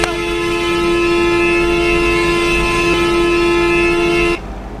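A train horn sounds as a train passes in Euro Truck Simulator 2, a bus driving game played on a Bangladesh map from Chittagong to Comilla. A loud, sustained tonal blast holds for about four seconds, then cuts off abruptly.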